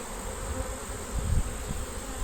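Crowds of honeybees buzz at an opened hive, a constant near drone with a few low bumps and rustles partway through, and no one speaking.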